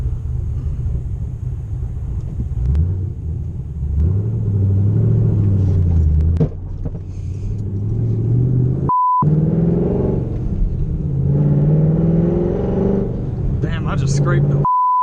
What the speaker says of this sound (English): blip with your right foot as you're going into third, and then release the clutch